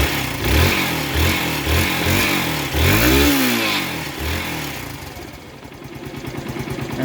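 A motorcycle engine, newly fitted with a replacement clutch damper, runs smoothly: steady close throbbing pulses, one brief rev that rises and falls, then an even idle with no clatter.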